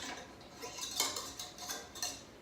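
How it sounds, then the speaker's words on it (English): A whisk attachment is taken off a stand mixer while making banana nut bread, giving a few faint metallic clicks and light clinks spaced about half a second apart. "Now I'm going to change out the attachment. I'm going to take out the whisk attachment."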